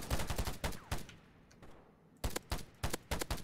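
Gunfire in the online video game Polygon, with sharp bursts of rapid shots in two clusters separated by a quieter gap, loud and close with no talk.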